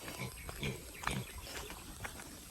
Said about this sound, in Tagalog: Balikan natin yung mga biik na napakalakas kumain.